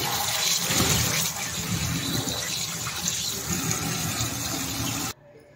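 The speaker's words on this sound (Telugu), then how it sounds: "సో ఇప్పుడు దీన్ని బాగా వాష్ చేసుకుందాం. నీట్గా వాష్ అయితే చేసేసుకుంటున్నాను." Ridge gourd pieces being washed under running water, a steady loud splashing and gurgling that continues for about five seconds and then stops abruptly.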